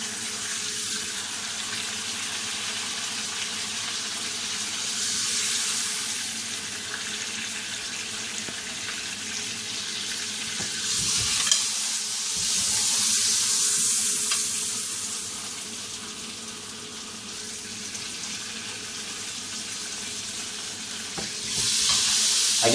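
Steak fries in fat and butter in a pan with a steady, soft sizzle that swells in places, along with occasional light clatter.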